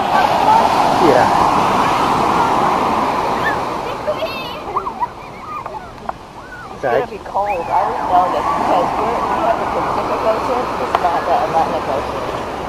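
Pacific Ocean surf washes in with a loud, continuous broadband roar of breaking waves and splashing water, while children's and adults' voices are faintly heard over it.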